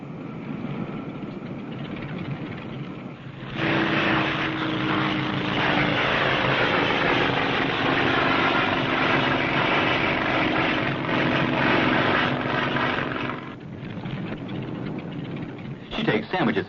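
A small passenger plane on a regular 300-mile commuter route in the 1960s drones past, its engine noise swelling loudly for about ten seconds and then fading, while a narrator speaks over it.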